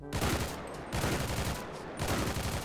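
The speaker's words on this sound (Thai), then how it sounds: "มันมีการเพิ่มเบสของเสียงปืน เข้าไป" Gunfire in GTA V fitted with the Realistic Weapons Sounds mod, its added bass booming through three loud, close bursts of rapid automatic fire separated by short gaps.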